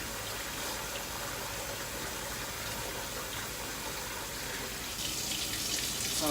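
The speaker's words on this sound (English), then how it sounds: "Turn on the cold water to mix it." Water runs steadily from a tap into a bowl, a continuous close rush of splashing that holds even throughout and grows slightly louder and brighter near the end. No one speaks.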